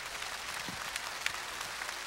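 Light, steady applause from the audience at a Korean televised singing contest in Goseong County, Gangwon Province, soft and slightly distant, continuing evenly throughout.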